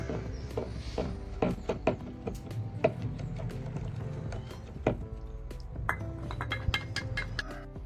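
Homemade bath soap mixture is stirred after colour blended into coconut oil is added, with a utensil clinking and tapping repeatedly against the container in a steady, close, irregular rhythm.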